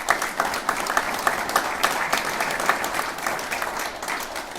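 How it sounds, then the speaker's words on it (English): A room of attendees at a racing speed symposium applauds, with dense clapping and a few sharper individual claps standing out, steady and close throughout with no talking on top. "So let's give a round of applause for Sam for everything he's done."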